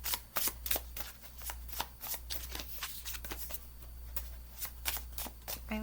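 Tarot cards are shuffled in quick, soft riffles with light flicking taps, close but quiet over a low steady hum, and no one talks.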